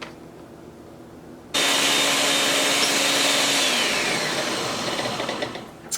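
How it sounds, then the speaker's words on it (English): A blender whirs up vegan drink ingredients with a loud, steady motor roar that kicks in abruptly and runs for several seconds, then winds down near the end. "I'm just gonna blend this up"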